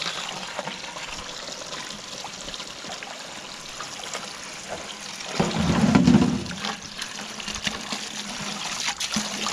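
Water from a hose trickling and pouring into a container outdoors at a cabin in Mexico, a low steady flow that swells into a fuller splashing gush midway before settling back.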